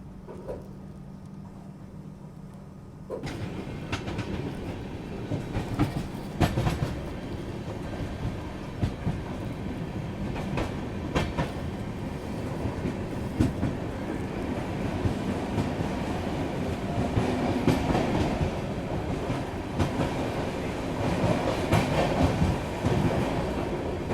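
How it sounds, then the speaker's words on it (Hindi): Rajdhani Express rolling through Yelahanka Junction without stopping: after a quieter start, a loud, continuous rumble of carriages and wheels sweeps in near, with rhythmic clatter and rattles over the track for the rest of the run. "यलहंका जंक्शन को बिना रुके पार करते हुए राजधानी एक्सप्रेस"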